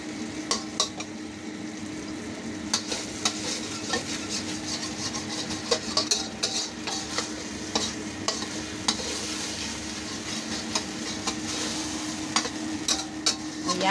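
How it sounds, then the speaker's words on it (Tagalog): Sardines fry in a pan while a utensil stirs them, giving a steady soft sizzle under repeated scraping and clinking strokes, close and fairly quiet throughout. "Medyo iprito-prito natin ng kaunti yung sardinas para hindi siya masyadong"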